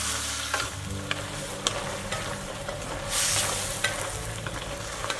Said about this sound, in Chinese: 炒香后放青柿子， 翻炒均匀